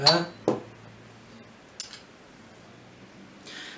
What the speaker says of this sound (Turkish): bir çatal yardımıyla güzelce çırpıyoruz